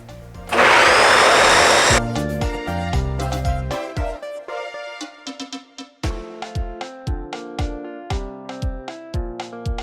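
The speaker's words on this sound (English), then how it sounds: "My food processor broke, so we're gonna be using a blender." A blender purees a vegetarian appetizer in a loud, close whir for about a second and a half, then the motor pulses in short bursts with rattling and knocking between them, and no one speaks.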